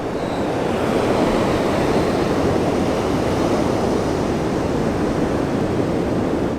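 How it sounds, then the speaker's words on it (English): Massive ocean waves churned up by Hurricane Ian roar as a loud, continuous wash of surf with steady wind rumble, dense and unbroken throughout. "Look how massive these waves are out here."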